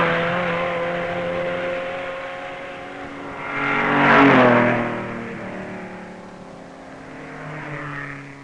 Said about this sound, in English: the engines nearly always at peak revs